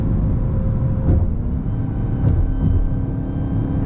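Cabin sound of a 2020 Dodge Charger Hellcat widebody under way, a low rumbling engine drone with a faint thin supercharger whine riding above it, steady and close throughout.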